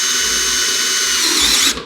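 A power drill drives screws into insulated round pipe wrapped in fiberglass duct wrap, giving a loud, steady high-pitched whine with a gritty ratcheting edge for almost two seconds before it releases.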